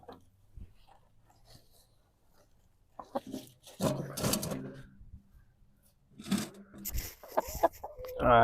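Chickens cluck and squawk in bursts nearby, quiet at first and then louder and busier, with scattered movement and handling noises between the calls.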